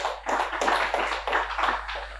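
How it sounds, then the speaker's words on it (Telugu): A spiritual-talk audience clapping in unison, about five loud rhythmic bursts of hand claps in quick succession, close and clear with no talk over them. "ఒకసారి గట్టి క్లాప్ చేద్దాం"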